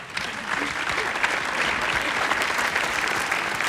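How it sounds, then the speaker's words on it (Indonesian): A studio audience on a TV talent show applauds for Iis Dahlia: steady, dense clapping that holds at an even level throughout, with no voices over it. "Tepuk tangan untuk Iis Dahlia"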